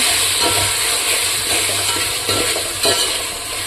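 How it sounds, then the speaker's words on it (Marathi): Tomatoes are stirred into fried, reddened onions in a pan for biryani, a dense steady sizzle with occasional soft scraping strokes, close and continuous. "त्यामध्ये टमाटर टाकू। मिक्स करून घेऊ।"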